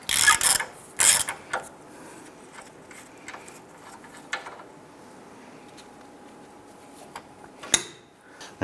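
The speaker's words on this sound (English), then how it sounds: "Once that's broken free, I'm going to go ahead and switch over to our ratchet." A hand ratchet turns a socket on the front sway bar link of a 2002-2008 Dodge Ram 1500, giving short bursts of quick metallic clicks at the start, then scattered clicks over a quiet garage background.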